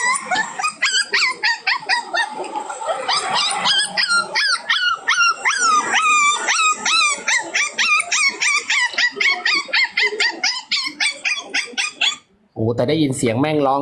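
A dog barks in rapid, rising yelps again and again, close and loud, ending in a drawn-out howl; a brief spoken word is heard.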